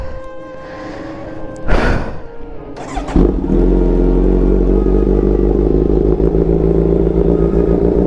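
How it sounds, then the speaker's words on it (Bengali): A superbike's engine cold-starts after a brief clatter and a loud burst, then settles into a steady, loud idle that runs on alone. "চলো লাস্ট কোল্ড স্টার্ট।"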